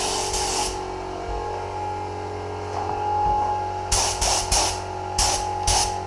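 A spray gun lays a medium wet coat of metallic paint onto a car panel, several short hissing bursts in quick succession near the end after an opening spray, over a steady low hum.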